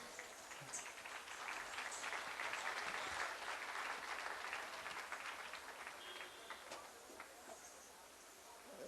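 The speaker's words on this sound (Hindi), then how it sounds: "तालियां से स्वागत कीजिए।" A large crowd at a religious festival stage event in Haridwar applauds to welcome a dance-drama director, a dense, sustained wash of clapping heard from a distance at low volume.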